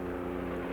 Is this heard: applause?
no